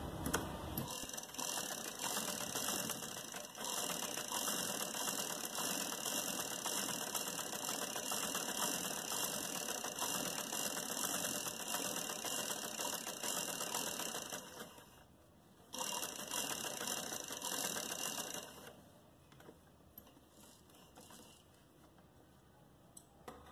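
A sewing machine stitching fabric for a designer sleeve, running in a steady, dense mechanical whir with a continuous high whine, pausing briefly near the middle, then starting again before stopping near the end.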